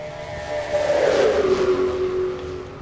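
Race cars roar along the track in a NASCAR Pepsi 400 video game, a loud engine note sweeping downward in pitch as a car passes close, with a steady roar continuing under it.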